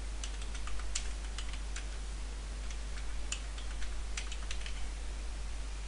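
Keystrokes on a computer keyboard while entering a database name and password, a quick irregular clatter of light taps close up over a steady low hum.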